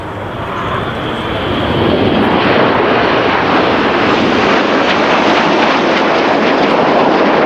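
RAF Red Arrows jets roar overhead during a flying display at the Royal International Air Tattoo 2024, a loud broadband jet rush building over the first two seconds and then holding steady and close, with no talk.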